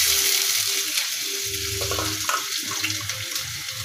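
Chopped onions hit hot frying oil already holding dried red chilli and garlic for Punjabi saag, a loud close sizzle and crackle that keeps hissing steadily, with some stirring scrapes.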